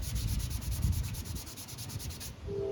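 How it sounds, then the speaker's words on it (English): A scuff pad rubs back and forth across a Kia car door panel in quick, even strokes, a close, raspy scraping with a regular rhythm before it stops near the end. "Kind of scuff those up real nice and neat like this."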